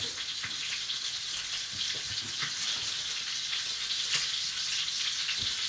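A steak sears on high heat in a cast iron skillet, a dense, constant close-up sizzle with faint crackles and small pops running through, no talking.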